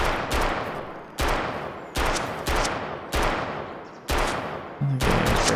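Repeated bursts of automatic gunfire in the video game Road to Vostok, about six loud, close volleys each lasting roughly a second, separated by brief gaps.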